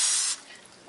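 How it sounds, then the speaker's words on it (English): Cooking spray hissing onto a lasagna pan: a single strong, close spray burst lasting about a third of a second, then a faint fading residue. "Just spray this pan."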